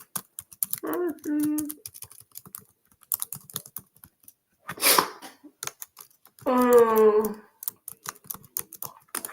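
Clicks of typing on a computer keyboard run lightly through the background, scattered between bursts of a person talking.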